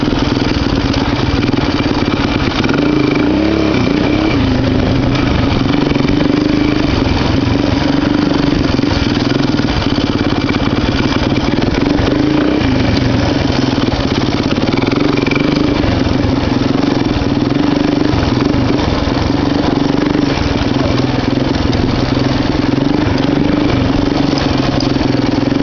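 Honda XR185 motorcycle engine running steadily at high load while riding up a mountain, a loud continuous drone with wind rumble and no talk.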